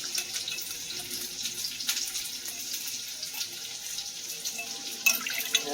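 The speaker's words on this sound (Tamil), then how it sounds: "நம்ம ஊற வச்சு இருக்கிறோம் இல்லையா தொண்டைக்காய் அதை வந்து நல்லா கழுவி எடுத்துக்கலாம்" Soaked turkey berries are rinsed by hand in water, a steady close splashing and trickling like a running tap into a bowl. It carries on with small bumps and sloshes and no voices.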